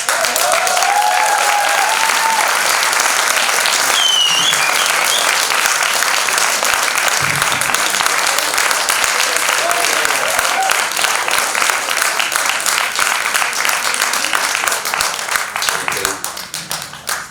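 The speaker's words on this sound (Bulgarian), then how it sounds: "Силни аплодисменти за Олег" Strong, sustained applause fills the hall at a centenary concert of a Bulgarian community cultural centre and cinema, dense steady clapping from a large audience that thins out slightly near the end.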